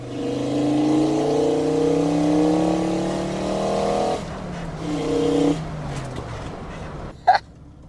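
A 5-cylinder Mk2 GTI engine revs hard and climbs steadily in pitch for several seconds, then drops off, surges briefly again and fades, ending with a short sharp knock.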